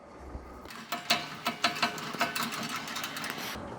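Band saw blade tension knob being turned by hand, giving a run of quiet ratcheting clicks and mechanical ticks in a steady rhythm, close up and fairly faint.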